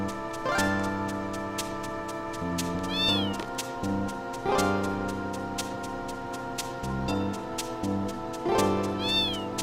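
In Final Fantasy VIII, a cat meows repeatedly over steady background game music. The meows are loud, clear and spaced a few seconds apart, with no talking.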